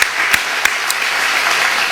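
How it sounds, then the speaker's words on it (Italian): Applause in a studio audience greets a guest, a dense, steady patter of clapping with a few sharper claps standing out, heard alone without speech. "la buonanima di Fucillo, facciamo un grande applauso all'avvocato"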